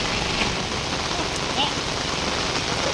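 Heavy rain pours steadily on a pickup truck during a flood, a dense, loud, continuous patter heard up close.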